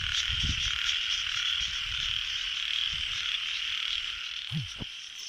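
A dense chorus of frogs croaking steadily in a rice field after rain, with a high continuous trill, plus a few low, nearer croaks popping up irregularly.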